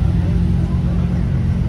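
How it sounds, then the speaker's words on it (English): A twin-turbo truck engine rumbles loudly and steadily up close, a deep continuous drone with no pauses. "Oh, that's the twin turbo truck, Scoochie."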